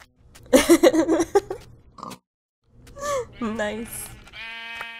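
Minecraft pig grunts and oinks in the game, a few short squealy calls mixed with other farm-animal noises while players talk excitedly over them.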